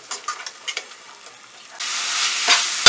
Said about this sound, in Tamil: இது அப்படியே எல்லாத்தையும் சேர்த்து கொதிக்க விட்டுடலாம்.